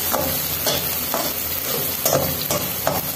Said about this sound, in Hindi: अब इन सबको हमें अच्छी तरह से मिक्स करना है आपस में, अच्छी तरह से मिक्स हो जाए